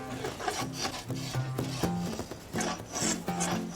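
Hand sanding rasps back and forth on the wooden neck of a guitar being repaired, a run of close, rhythmic scraping strokes of roughly even length with short gaps between them, heard alone without speech.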